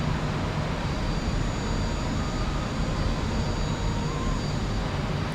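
The jet engine of an F-86 Sabre in the DCS flight simulator game drones as a steady, broad roar with a faint high whine, unchanging and constant for the whole stretch, with no speech over it.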